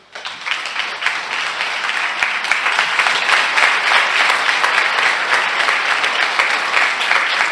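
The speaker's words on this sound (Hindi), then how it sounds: "तालियां बजाइए।" A church congregation bursts into loud, sustained applause during a sermon on fasting, dense clapping that starts abruptly and holds steady throughout.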